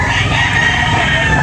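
A rooster crows loudly and close by at a chicken market in Carbon, Cebu, one sustained call with fowl and crowd noise around it.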